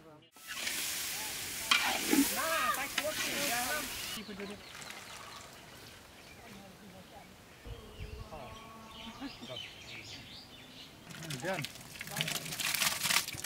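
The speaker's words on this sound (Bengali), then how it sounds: "সবজিটা ভাজি করছি" Vegetables frying and being stirred in a pan in a village kitchen, a steady sizzle with scraping and clatter, while people talk nearby.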